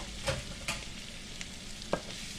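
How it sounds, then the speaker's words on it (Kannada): Salted boiled potatoes are added to a frying pan and stirred for a masala dosa filling, making a few distinct scraping clacks over a low, steady sizzle, with no voices. "ಈಗ ಆಲೂಗಡ್ಡೆ ಹಾಕ್ಕೊಳ್ತಾ ಇದ್ದೇನೆ"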